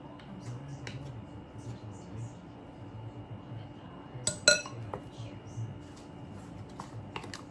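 A spoon clinks sharply against a dish or bowl in a brief cluster midway, with quiet kitchen clatter around it and low talk in the background.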